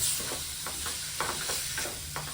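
Tender jackfruit vegetable is stir-fried in a pan, with a steady hiss of sizzling and soft, repeated scraping strokes as it is stirred, close up.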